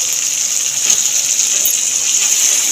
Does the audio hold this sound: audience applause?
no